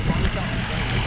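A tuned BMW car engine runs with a steady, dense low rumble, loud and close throughout with no pauses.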